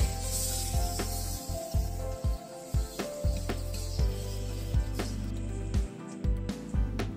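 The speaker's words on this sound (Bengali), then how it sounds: "মশলাটাকে একটু হালকা করে ভেজে নেব আগে।" Crushed ginger, garlic and chili spices fry lightly in a pan, a loud continuous sizzle and hiss with repeated scraping stir strokes, close and without talk.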